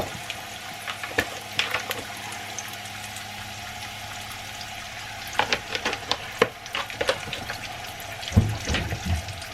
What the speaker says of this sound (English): I'm going to add a little more oil to this and get these fried up.